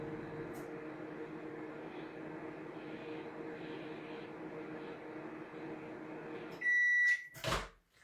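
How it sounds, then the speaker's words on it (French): A microwave oven heating milk with vanilla bean seeds at 600 watts hums steadily and fairly loudly, then gives a short series of bright electronic beeps, followed by a couple of clunks near the end. "Dans le bol micro, faire chauffer le lait avec les graines de gousse de vanille pendant 2 minutes à 600 watts."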